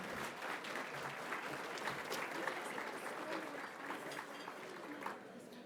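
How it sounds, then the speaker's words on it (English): Sustained applause from a seated audience honoring gift award winners at a lunch session, steady clapping filling the room from start to finish with some murmuring mixed in. "Let's give everyone that won a gift award another round of applause"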